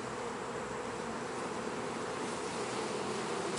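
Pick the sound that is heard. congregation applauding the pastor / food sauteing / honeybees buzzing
honeybees buzzing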